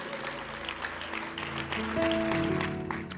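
A congregation applauding in a church service: steady clapping from many hands under sustained musical tones from an instrument, moderately loud and swelling slightly toward the end.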